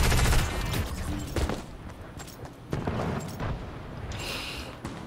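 Gunfire in the video game Fortnite crackles in several bursts and scattered shots across a busy, moderately quiet game mix, with no speech over it.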